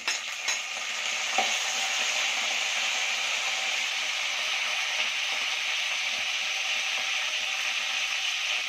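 Finely chopped garlic and curry leaves hit hot oil for a bitter gourd gojju, giving a loud, steady sizzle that stays constant throughout after a brief crackling burst at the start, with no talking.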